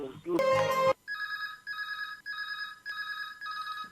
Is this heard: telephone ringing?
yes